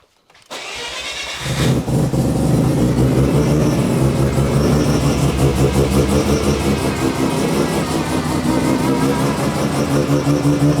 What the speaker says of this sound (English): First thing we're going to do is warm up the car.